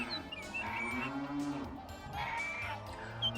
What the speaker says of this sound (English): What am I to do with 8 milkmaids and their cows?